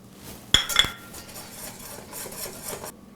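A whisk clinks against a bowl, mixing flour, baking powder, baking soda and salt for buttermilk biscuits: two sharp metallic knocks at the start, then a steady soft scraping rustle.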